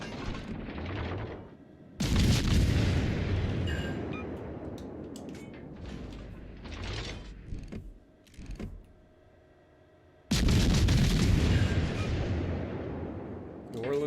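Naval artillery fires in World of Warships Legends: heavy booming salvos strike at the start and again near the ten-second mark, each followed by a long rumbling decay, with quieter mechanical clanks and smaller shots in between.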